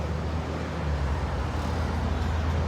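Busy roadside traffic roars past in a dense, continuous low rumble of passing cars and heavier vehicles, steady and loud with no pauses.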